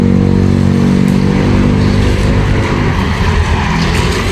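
A security guard's motorcycle at a Shakey's outlet runs nearby with a steady, loud, rumbling engine note that holds constant throughout, with no voices over it.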